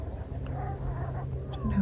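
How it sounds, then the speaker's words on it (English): Geese honk faintly in the distance over a marsh, a few scattered calls rising above a low wind rumble, with a louder honk near the end. "I think right in the distance there are the geese."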